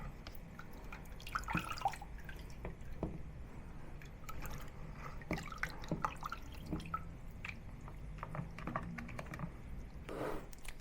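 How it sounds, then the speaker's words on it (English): Softened glass noodles are lifted out of a bowl of water in a kitchen, giving a scatter of quiet drips and small wet splashes over about ten seconds. "So now let's remove the glass noodle from the water."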